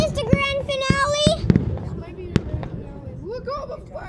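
Grand finale of a fireworks show: a rapid series of sharp bangs and crackles, with whistling rockets rising, while people talk and exclaim nearby.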